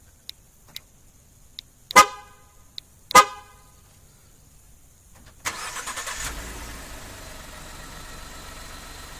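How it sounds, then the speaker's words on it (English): A 2015-2018 Ford F150 starting by remote start: a few short horn chirps and clicks, then the engine cranks and settles into a steady idle, heard from outside the truck. "We're going to activate remote starting."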